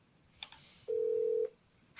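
A telephone call is dialed, giving one steady ringing-type tone of about half a second between faint clicks and a quiet background, with no talk.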